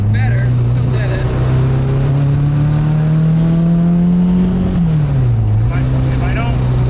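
Turbo K24-swapped Nissan Cefiro engine under hard full-throttle acceleration, a loud, close roar that climbs steadily in pitch for several seconds, then drops sharply and settles, with voices over it.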